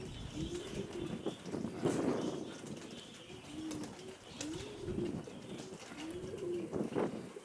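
Pigeons in Mykolaiv coo in repeated low, rounded phrases through the whole stretch, close and clear, with a few wing flaps and chirps mixed in.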